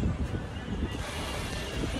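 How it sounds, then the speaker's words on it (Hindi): Strong, cold wind blows around an open Thar off-roader, roaring and buffeting the microphone in uneven low gusts. "बहुत ठंडी हवा चल रही है भाई"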